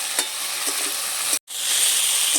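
Taro stolon curry with fish, stirred and fried in a pan, gives off a steady loud sizzle with scraping stirs, broken by a brief silence midway before the frying resumes.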